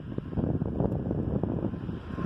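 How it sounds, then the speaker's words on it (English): Wind rushes and buffets against the microphone outdoors in Texas, a steady low roar with no talking. "It's windy out right now."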